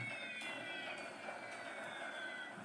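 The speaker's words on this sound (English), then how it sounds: "Now enemy torpedo bombers attacking me with bombs." Aircraft engines drone steadily through a War in the Pacific game scene as enemy torpedo bombers attack cruisers, a continuous faint hum with high whining tones.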